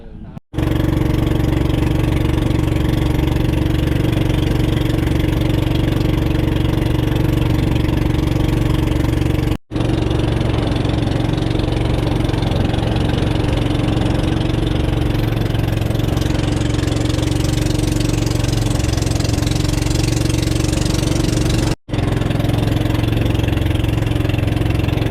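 A small fishing boat's engine idles steadily and loudly throughout, a constant low rumble with a couple of brief dropouts.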